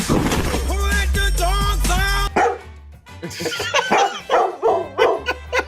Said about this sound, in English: He's barking Toros.